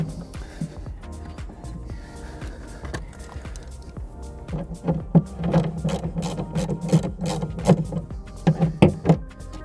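Torx screws being undone on the side panel of a DAF XF truck, a close whirring power-driver buzz in short bursts with small clicks and rattles, louder in the second half.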